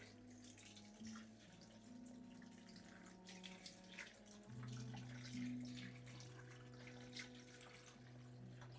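Steady running filtered water pours into a pot of meat for stock, a continuous splashing flow with a shifting tone as the level rises, close by and without speech.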